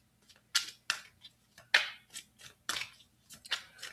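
Tarot cards being shuffled by hand, a string of soft, crisp riffling slaps and card flicks in an irregular rhythm, close and fairly quiet with no talking.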